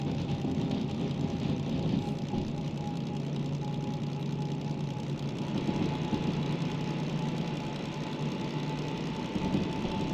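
A DM3 diesel locomotive in Derail Valley runs at about 1,000 RPM, a steady low rumbling drone with a mechanical knock, continuous and close with no voices.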